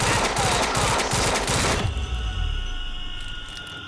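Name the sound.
gunfire with heavy recoil in the video game Quantum Break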